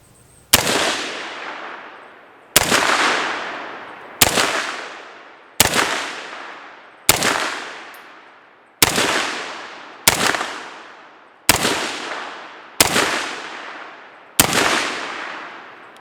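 Ten loud, sharp shots from a PSA PA-10 rifle in .308 Winchester, fired outdoors at a steady pace of roughly one every one and a half seconds, each with a long echoing tail.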